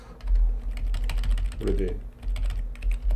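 Rapid typing on an unfamiliar computer keyboard at a live broadcast venue, a dense run of fast key clicks continuing steadily under someone speaking briefly.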